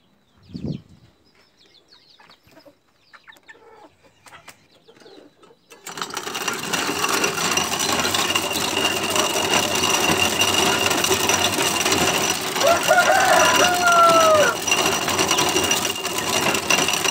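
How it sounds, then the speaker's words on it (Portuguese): A corn grinder grinding maize starts up after a few quiet seconds of small knocks, then runs as a loud, steady, dense whirring rattle that continues to the end. "um moedouro de milho"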